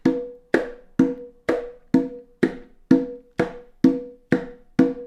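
A single conga plays a slow, even cumbia pattern of eleven crisp hits, with ringing open tones and sharper slaps that decay quickly between strokes, close and alone.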